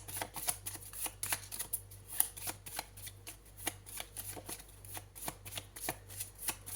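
Tarot cards are shuffled during a reading, producing a steady flurry of quiet riffling snaps and soft slaps close to the microphone, heard alone without talk.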